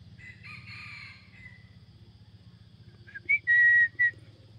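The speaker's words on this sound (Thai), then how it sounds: "ที่ขันจะช้าก็เพราะว่าไก่ก็ไม่คึกเท่าไหร่ครับผม" An eight-month-old straw-colored fighting gamecock crows once, loud and close, a short strained cock-a-doodle call near the end over a steady low background hum.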